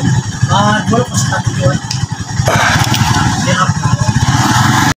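A Honda XRM 110 motorcycle engine runs close by with a rough, uneven putter, the bike lurching when shifted into gear even with the clutch pulled in. Mechanics talk over the noise.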